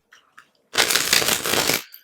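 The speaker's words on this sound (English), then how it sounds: "I've already shuffled these one more time for you." Tarot deck being shuffled by hand, a dense riffling burst of about a second close to the mic, preceded by a couple of faint taps, with no talking.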